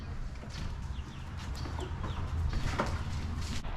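Chickens clucking beside a coop, scattered soft calls and chirps at moderate distance over a steady low background rumble.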